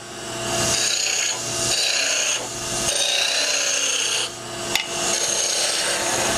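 Spindle roughing gouge cutting a wooden spindle on a lathe, a loud close scraping rasp in several sustained passes separated by brief dips, with a sharp knock near the end.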